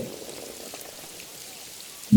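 Steady rain patters softly throughout, a continuous wash of drops with no voices, ending in a brief louder low thump.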